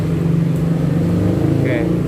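A Yamaha Nmax ABS scooter, rewired to run without its ABS module, idles with a steady low engine rumble close by while someone talks over it.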